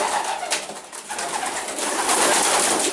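A racing pigeon coos close by, soft repeated throaty calls over a steady background hiss, with no voices.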